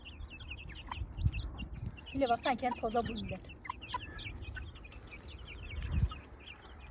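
Many baby chicks peep in rapid, high chirps throughout, close by, while a person speaks briefly in the middle over some low handling rumble.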